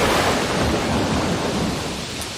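Heavy rain at night with a rumble of thunder, a steady wash of rainfall that holds at moderate loudness and fades slightly toward the end, with no voices.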